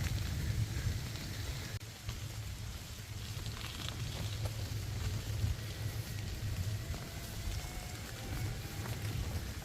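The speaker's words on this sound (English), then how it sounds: "the rain's picking up" Steady rain falls during a bicycle trip along the C&O Canal towpath, a continuous broadband patter with low rumble, fairly close and even throughout, with no talking.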